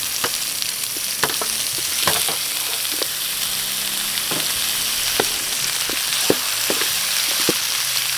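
Onion, ginger and garlic sautéing together in oil for cansi beef-shank soup, giving a strong, continuous sizzle with scattered sharp clicks and scrapes from stirring.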